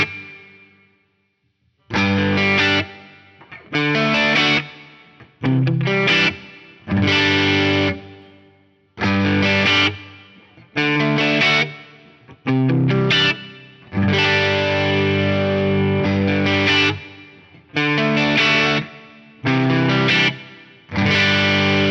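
Electric guitar through an Axe-Fx III with reverb, played in short distorted chords and phrases compared at ultra high and economy quality, each burst trailing into a reverb tail before a brief gap.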